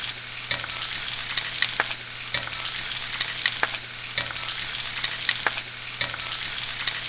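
Chicken sautéing in a hot cast iron pan on a stovetop, a steady loud sizzle with regular scraping stir strokes roughly every second or two, no voices.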